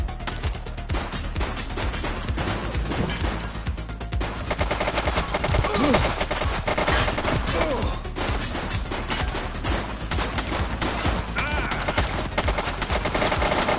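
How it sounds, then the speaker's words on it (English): A fleeing suspect's gunfire in The Precinct, dense rapid shots and bursts ringing out continuously over chaotic game noise. "He's shooting!"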